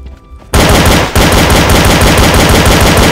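Sustained rapid automatic gunfire in a Counter-Strike-style terrorist match blasts loud and continuous after a brief quiet opening, with one short break partway through and no talk.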